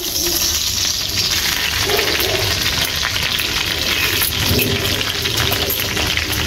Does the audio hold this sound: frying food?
yes